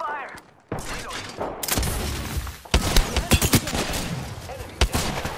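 Gunfire in Apex Legends, a rapid burst of automatic shots cracking in dense clusters after a brief lull, loud and close, with sharp single reports punctuating the middle and end and game chatter mixed in.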